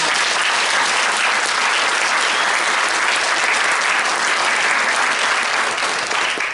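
Applause fills a town hall meeting with the state Auditor General. Many hands clap in a thick, continuous roar that holds at a loud, even level from start to finish, with no lull.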